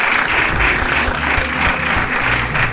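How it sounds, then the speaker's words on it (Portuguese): An audience at a comedy podcast taping breaks into sustained applause, dense and loud throughout, with clapping filling the room evenly and no voices standing out. "Uma salva de palmas para o público."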